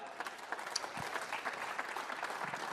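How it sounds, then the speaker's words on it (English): A crowd at a squash league grand final and prize-giving claps for the runners-up, a steady, fairly loud patter with some sharper individual claps and faint voices in the background. "Give them a round of applause there."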